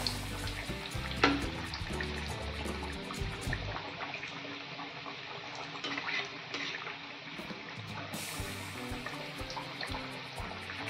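Potato tikkis shallow frying in a pan over medium heat, a steady close sizzle and crackle running throughout with a few louder pops, no talking.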